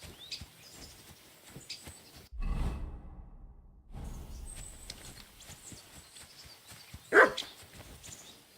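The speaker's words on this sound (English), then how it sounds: "Barking." A single sharp dog bark rings out near the end, amid low rumbling footsteps and ambient game noise in Kingdom Come: Deliverance.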